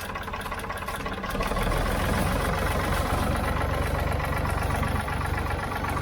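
A Ford 3000 tractor engine runs at idle, then revs up after about a second into a louder, faster, steady rumble with a knocking beat that holds close and strong to the end.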